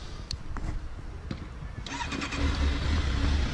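A motorcycle engine with its original stock exhaust cranks and catches, then settles into a steady, fairly quiet idle close by, a low rumble building over the last seconds with background noise throughout.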